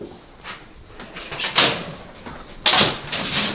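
A front door is pulled shut and slams: a dull knock, then a louder sharp bang near the end, heard close up outdoors with light background noise.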